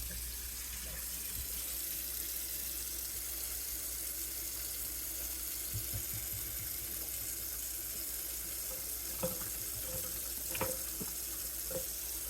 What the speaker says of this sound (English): I am gonna go ahead and just put a little bit of water in here and rinse the leaves off